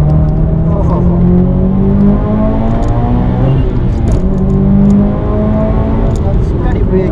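Subaru WRX STI engine holding a steady loud drone with slowly shifting harmonics as the car accelerates through a corner, close and continuous, with a driver talking over it.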